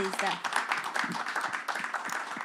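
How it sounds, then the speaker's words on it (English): Audience applause for an expert panel at a climate conference session, a dense spread of clapping lasting the whole stretch with a voice talking over it. "May we please give them the applause."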